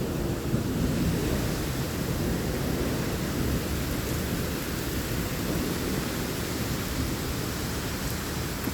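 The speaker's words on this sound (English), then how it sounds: "And the rain is slowly calming down." Heavy rain pours down during a thunderstorm, a dense, unbroken roar of hissing drops that stays loud and steady with no voices over it.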